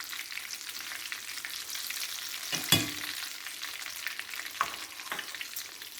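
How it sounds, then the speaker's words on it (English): Sweet egg rolls deep-fry in oil, giving a continuous bubbling hiss with a few sharp clinks and scrapes breaking through, heard close up without talk. "whenever you're adding them to the oil. So we're going to get those fried up."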